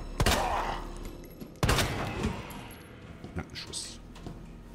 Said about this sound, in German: versuchen wir den mal hier vorne mit einem schönen gezielten Schuss auszuschalten